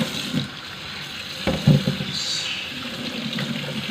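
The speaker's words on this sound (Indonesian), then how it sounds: "Kemudian setelah ini kita akan cuci bersih." Running water splashes while prawns are washed clean in a kitchen, a steady close wash with a few louder splashes and handling knocks.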